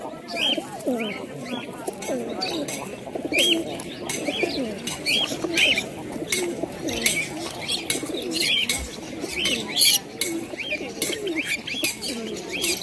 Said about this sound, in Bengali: দেখুন বন্ধুরা একজোড়া বেলজিয়াম হমার পায়রা রয়েছে কাশমা কালারের মধ্যে, খুবই সুন্দর বেলজিয়াম হমার।